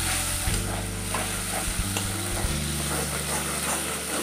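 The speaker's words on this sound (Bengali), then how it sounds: "অনবরত নাড়তে হবে যাতে নিচে বসে না যায়।" A mushroom and cashew masala stirred steadily in a pan, with a constant loud sizzle of frying under close, repeated scraping strokes of the spoon.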